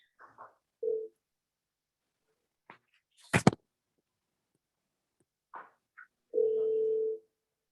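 Phone call placed to reach someone for a vote, with a steady tone sounding briefly, then a sharp click-like burst and short beeps, and a longer steady tone at the end, separated by silence.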